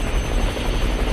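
A helicopter in Roblox Mad City drones loudly and steadily, its dense rotor and engine wash filling the moment without a break.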